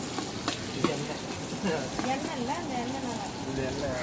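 Onions frying in a mix of peanut and coconut oil for chicken biryani, a dense close sizzle with stirring knocks, while a voice talks over it throughout.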